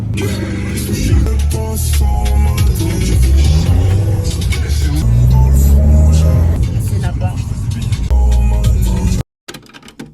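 Idling car engine heard from inside the parked vehicle, a steady low rumble throughout under loud nearby talk, cutting off abruptly near the end.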